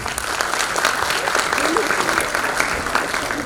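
An audience claps loudly and steadily for a youth agricultural camp project winner called to the stage at a local ceremony, with dense, even applause filling the whole stretch.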